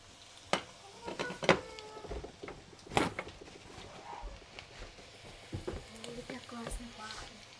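Schnitzels frying in a pan in a home kitchen, a soft sizzle under scattered clinks, scrapes and handling knocks, with people talking now and then.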